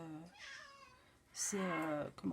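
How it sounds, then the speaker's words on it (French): A house cat meows indoors, a couple of short rising calls mixed in with a woman's French speech at close range. "Quand c'est pas les enfants, c'est le chat."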